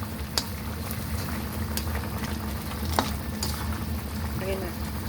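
Chicken tinola soup with papaya simmering in a pot while being stirred, a steady low bubbling and sizzling bed broken by a few faint spoon clicks against the pot, with no talk.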